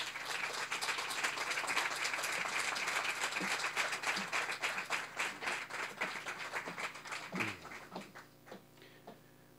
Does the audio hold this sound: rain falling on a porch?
no